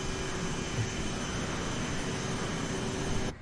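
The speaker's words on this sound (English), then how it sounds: "I've never actually heard the CRJ at that flight level, but yeah, those engines do sound believable." Steady, broadband roar of CRJ jet engines heard from outside the cabin in a flight simulator soundpack at cruise altitude, a constant loud rush with a faint steady tonal hum and no voices.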